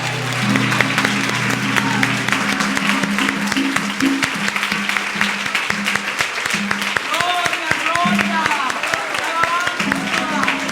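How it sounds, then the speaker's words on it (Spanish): Church congregation applauding at a weekday Mass, steady clapping throughout with sustained sung or spoken voices and organ-like tones underneath. "Un aplauso a Cristo Jesús."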